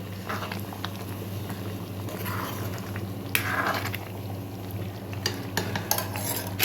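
Stuffed brinjal curry being stirred gently in a pot, soft scraping and clinking strokes over a steady simmering bubble.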